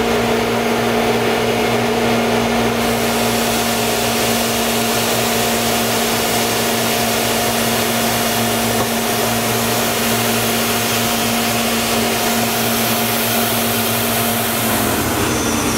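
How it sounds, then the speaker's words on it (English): An IMPACTS S270E-75R shot blaster's blast wheel runs at full speed over a floor, giving a loud, steady, unbroken mechanical roar and whine that holds for the whole stretch. "We'll go ahead and turn our blast wheel on. You're gonna let it come all the way up to full speed."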